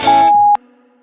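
A single steady answering machine beep, loud and clean, holds for about half a second over a faint hum, then cuts off abruptly leaving quiet background.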